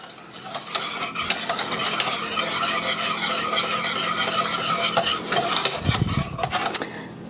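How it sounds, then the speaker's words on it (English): Coffee ice cream mixture whisked briskly in a bowl, a steady busy scraping and clinking that runs without pause and stays close and fairly loud throughout. "I'm going to whisk that until it's mixed in good"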